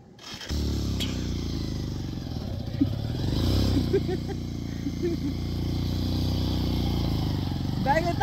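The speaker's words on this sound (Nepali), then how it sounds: "बाइकले तान्न छोड्यो यार" Motorcycle engine labouring on a rough mountain road toward Dhorpatan, a steady low drone straining throughout with occasional clattering knocks, close and loud, while people talk over it.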